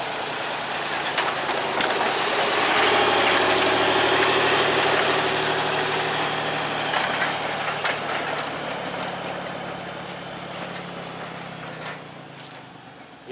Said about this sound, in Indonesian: lokomotif kecil D5 kembali maju untuk masuk ke percabangan mengarah ke kebun kembali